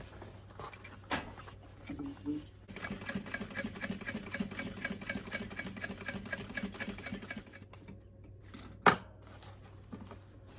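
A sewing machine stitches a zipper onto a fabric toiletry bag with a fast, steady whirring patter. It runs in bursts with a few brief pauses and clicks, close and fairly quiet.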